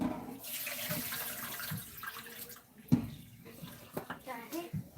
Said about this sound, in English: we're going to rinse this out